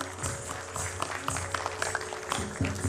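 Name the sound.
applause for an artist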